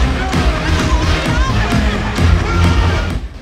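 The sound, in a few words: crowd cheering at a concert show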